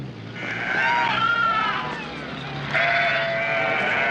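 Sheep bleat loudly and repeatedly in a field, several overlapping calls layered over steady background noise.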